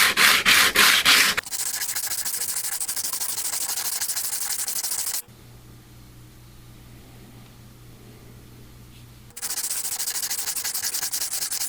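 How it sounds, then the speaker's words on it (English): Power sanding and polishing the patina off an old metal scraper during a tool restoration: loud, steady abrasive whirring in long bursts, broken by a quieter stretch of low motor hum before the grinding resumes. "It's just kind of polishing it a little bit. It's polishing the patina."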